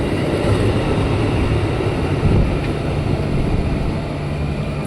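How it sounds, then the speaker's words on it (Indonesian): Tokyo Metro 6132, a KRL commuter train bound for Jakarta Kota, rolls up to platform 10 with a continuous heavy low rumble and steady rolling noise, close and loud throughout, with no voices. "Jalur 10 masuk komuter lain tujuan Jakarta Kota, Tokyo Metro 6132."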